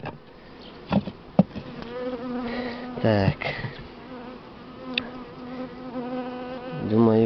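Buckfast honey bees buzz steadily around an open hive during a spring inspection, a dense close drone with someone speaking briefly and a few knocks of frames.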